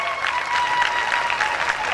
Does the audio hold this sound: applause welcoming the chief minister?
yes